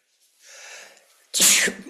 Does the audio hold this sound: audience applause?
no